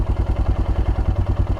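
A Royal Enfield Himalayan motorcycle engine idles close by with a steady, even chugging pulse and light mechanical clatter.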